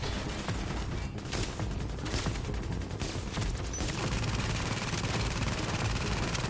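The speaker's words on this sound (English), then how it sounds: "the turret's just gonna melt that guy." An automated turret fires at enemies in The Division, dense continuous bursts of rapid gunfire mixed with clatter and impacts, loud and sustained throughout.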